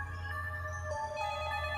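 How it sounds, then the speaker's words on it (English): A phone ringtone in the Corpse Party video game plays as a short, steady electronic tone over a low hum, faint and alone. "As soon as I got home, the phone rang."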